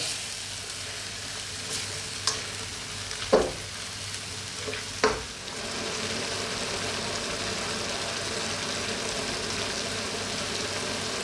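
Ground beef and bean sprouts sizzle steadily in a hot pan, with a few sharp clinks of a utensil stirring early on, then an even frying hiss.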